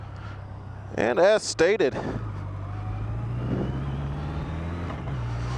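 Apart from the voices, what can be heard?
motorcycle riding on rough roads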